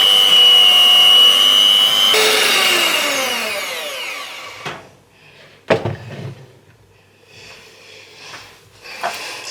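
Electric hand mixer beating softened butter in a bowl for cupcake icing, a steady whirring motor that winds down after a few seconds, followed by scattered clunks and scrapes of the bowl.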